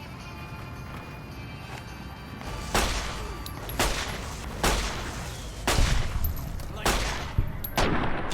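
Gunshots from a 9mm pistol in a video game: a run of about six sharp, loud reports spaced roughly a second apart, starting after a quieter lead-in.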